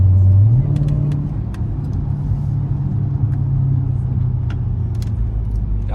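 A Dodge Challenger Scat Pack's V8 catches with a short starter whine and a loud rev, then drops to a steady, rumbling idle recorded from inside the car, with faint clicks and light movement.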